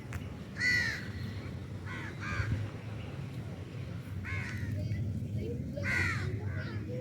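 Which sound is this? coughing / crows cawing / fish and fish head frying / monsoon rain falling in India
crows cawing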